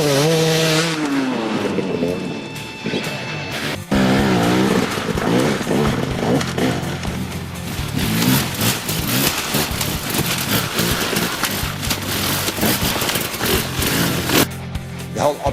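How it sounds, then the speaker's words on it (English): An enduro motorbike's engine revs hard as it accelerates out of a berm, a loud, close, continuous snarl rising and falling in pitch with throttle changes under a steady rushing background. "getting the back tire into full traction mode and accelerating out"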